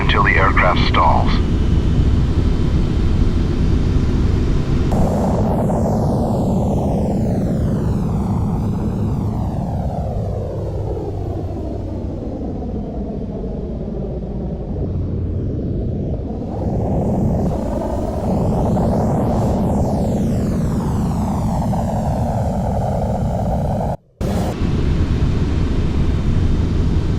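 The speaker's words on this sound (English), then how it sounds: "Add full power, hold pitch up 20 degrees until the aircraft stalls." Boeing 747 engines at full power in Flight Simulator X during a stall test, a loud continuous roaring drone with sweeping shifting tones and a brief dropout near the end.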